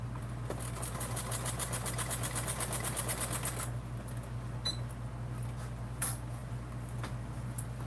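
A sewing machine stitches a seam on a bag in a rapid rhythmic run of needle strokes that stops partway through. Quieter motor hum and a few small clicks follow.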